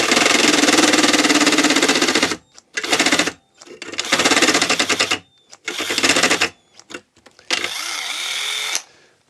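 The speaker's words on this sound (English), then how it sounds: "We just need to make this hole a round hole, and it should fit fine. To the step drill!" A cordless step drill bit whines in several loud bursts separated by short pauses, each run lasting a second or two, drilling a hole in a guitar amp, close up with no talking.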